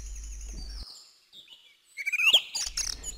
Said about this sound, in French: ça correspond au chant d'un oiseau, une grive musicienne